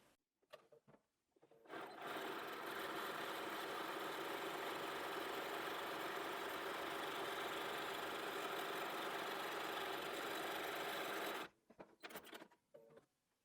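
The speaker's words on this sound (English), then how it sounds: "Your machine, if it struggles a little bit with the fleece, with 2 layers, try using a longer stitch length." A sewing machine stitching two layers of fleece for a Santa hat: a steady, close mechanical whirr running continuously for about ten seconds, framed by brief handling clicks and fabric rustle before and after.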